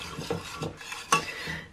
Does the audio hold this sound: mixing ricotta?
yes